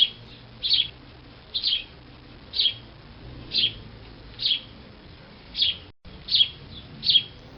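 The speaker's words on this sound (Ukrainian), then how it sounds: "Так, це співа горобчик." A sparrow sings outdoors in winter, short bright chirps repeating about once a second at a clear, moderate distance over quiet background hiss.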